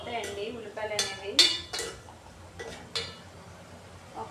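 Sliced onions with salt are stirred in a pan, producing a few scattered scrapes and clinks of a spoon against metal, close by and fairly quiet, with faint background noise between strokes.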